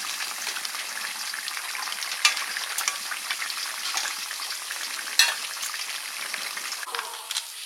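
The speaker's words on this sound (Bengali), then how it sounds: "কাতলা মাছের মুড়ো ভাজা হয়ে গেছে।" A catla fish head fries in hot oil, a close, steady crackling sizzle with sharper pops and spatters breaking through now and then.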